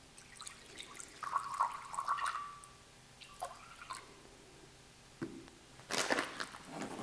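Lukewarm water pours and drips into a container for a sourdough starter in a quiet kitchen, coming in a few short, gentle bursts with a brief louder splash near the end.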